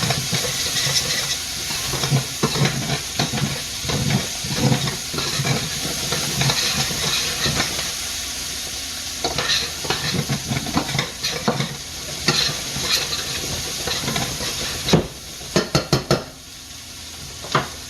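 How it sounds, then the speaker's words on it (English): Chicken cacciatore with onion being stirred in a hot pan, a continuous sizzle and hiss broken by repeated scraping strokes of a utensil and a few sharp metallic knocks near the end, with no talking. "And here, in this stage, we're going to stir it around."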